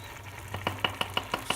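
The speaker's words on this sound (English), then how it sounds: "stir it gently so that, and turn it upside down so that the rice should not break" A spoon stirs vegetable pulav rice in a cooking pot, giving a quick series of about seven light scraping knocks at an even rhythm over a soft sizzle, close up and with no talking.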